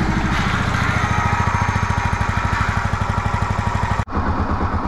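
A Yamaha YZF R125 motorcycle engine idles after a restart, a steady, rapid low thumping pulse close by, briefly dipping near the end before settling back into the idle.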